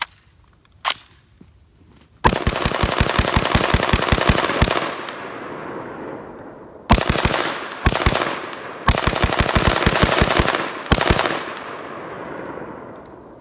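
A 7.62x39 AR rifle firing rounds that had been dropped in the snow: one early shot, then several loud rapid-fire strings of shots with pauses between them, each burst ringing out outdoors.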